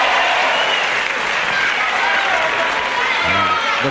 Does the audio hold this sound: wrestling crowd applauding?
yes